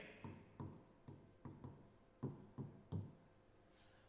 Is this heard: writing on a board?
yes